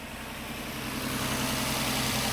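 A Nissan Maxima SV with a V6 engine idles close by, a steady, even low hum with a faint rise in level partway through and no voices.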